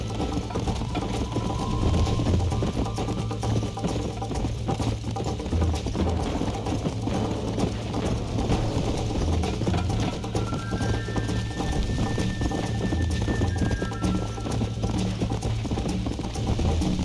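Horse hooves clip-clop steadily in the video game Red Dead Redemption, a continuous rhythmic trot at moderate distance over low ambient game sound, with no talking.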